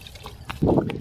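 Cold well water poured in to saturate a grain mash for Viking stone beer brewing, a brief close splashing pour that swells midway after a few faint clinks.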